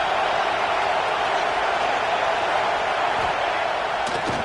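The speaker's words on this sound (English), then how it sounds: "here comes the noise. This crowd is trying to inspire this defense to make a big red zone stop" Football stadium crowd roaring during a red zone defensive stand, a dense, steady wall of noise that holds at full volume without letting up.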